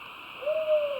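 A single sustained owl hoot at Bongamsa temple forest starts halfway through and carries on over a steady background drone of forest insects.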